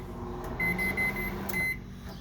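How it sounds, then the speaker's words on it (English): Microwave oven in a 2016 Thor Freedom Elite 23H camper, giving a run of short electronic beeps, the first three evenly spaced and a fourth after a pause, over a steady low hum close by. "Microwave."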